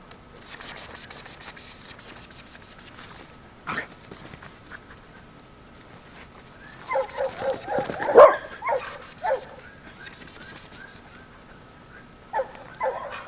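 Small dogs bark, yip and whimper excitedly over coyote fur in a backyard, with intermittent scratching between bursts of close, loud barking.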